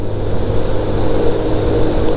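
A motorcycle ridden in cold weather in Rio Grande do Sul, its engine a steady loud drone with heavy wind rumble close to the rider, continuous for the whole clip.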